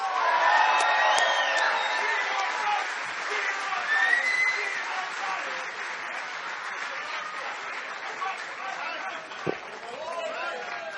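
Large indoor crowd at a Trump rally in a National Guard armory in Lawrenceville, New Jersey, applauding, whooping and cheering continuously, a dense steady roar with scattered whistles and shouts.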